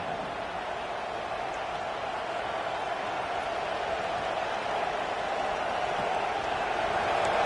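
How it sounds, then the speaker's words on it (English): A stadium crowd roars steadily through a college football game with Wisconsin's defense on the field, the broad noise of the packed stands holding a constant level from start to finish. "this crowd coming to life here, trying to help the defense get a stop with the offense pinned back"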